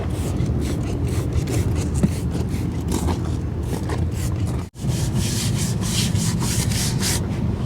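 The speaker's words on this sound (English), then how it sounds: "I rub it on with this. It's like a tire scrubber." A scrubber works over the tire of a 1956 Cadillac in quick, continuous back-and-forth rubbing strokes, loud and close, broken by one short gap midway.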